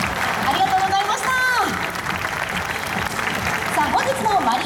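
Steady applause from a fan audience at a ballpark stage talk show sends off the guest baseball players, with an announcer speaking over the continuous clapping.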